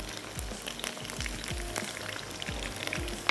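Curry leaves and spices drop into hot oil in a pan for achaari bhindi, giving a soft, close crackle with a series of small pops and light drips.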